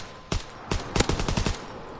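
Short bursts of submachine gun fire from a PS4 video game, several quick rapid volleys crackling close and loud over about a second, then dropping back to quiet.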